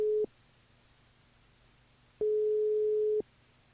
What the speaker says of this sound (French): On verra déjà si ça répond avec Sidonie ce soir